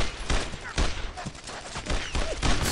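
Rapid machine-gun and rifle fire rattles in Brothers in Arms: Road to Hill 30, a WWII battle near Carentan, as sharp loud bursts repeat in uneven volleys throughout, with faint voices briefly mixed in.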